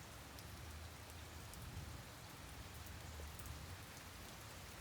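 Steady afternoon rain falls in a soft, even patter, faint and continuous with no voices.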